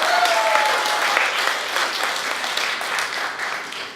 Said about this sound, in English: Please give her another little round of applause.